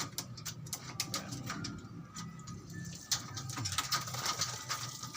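Pigeons, including a blue bar, make soft coos and scattered clicks and taps, faint and close, over a murmuring background.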